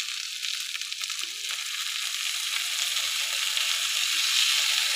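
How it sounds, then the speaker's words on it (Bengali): Bitter gourd fries in hot oil with salt and turmeric, giving off a steady, bright sizzle that holds unbroken throughout. "নুন আর হলুদ দিয়ে এখন এটাকে আমি ভালো করে ভেজে নেব।"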